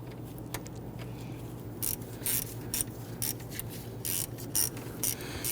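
Ratchet wrench tightening the bolt on a camshaft position sensor of a 2011-2015 Kia Sorento 2.4L four-cylinder, quick bursts of clicking ratchet strokes over a low background hum.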